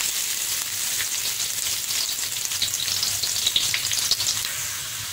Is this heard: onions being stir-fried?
yes